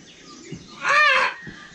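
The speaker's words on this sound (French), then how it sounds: "Est-ce que tu reconnais cet oiseau? C'est une corneille." A crow's call, one loud harmonic caw-like cry lasting about a third of a second, heard close and alone against a quiet background with faint low thumps before and after.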